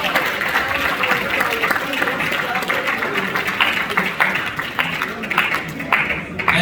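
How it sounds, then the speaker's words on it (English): Audience applause fills a hall at an Africa Day university celebration, a steady dense clapping that holds loud and even throughout with no talk over it. "Can you give him a round of applause, please?"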